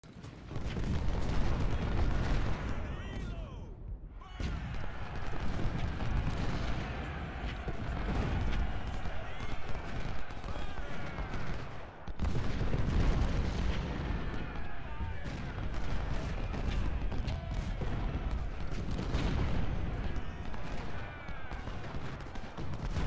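Artillery barrage in the Civil War video game Ultimate General: Civil War, with repeated booming cannon shots and rolling fusillades overlapping into a dense, continuous roar of battle, briefly thinning twice before surging again.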